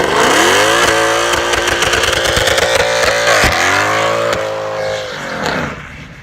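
Mercedes W204 C63 AMG V8 revving hard, loud harmonic engine roar rising and falling through several throttle blips, then fading away at the end, with no voices.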